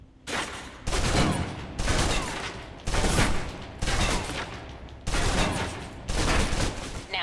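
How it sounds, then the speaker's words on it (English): A submachine gun in the video game Alpha Protocol empties its full clip in a string of about six loud, sustained automatic bursts separated by brief pauses. Faint speech may sit underneath. "Now, let's move on to the submachine gun. Now let's empty the clip."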